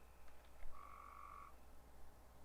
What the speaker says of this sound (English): Yeah, the frogs are quite loud.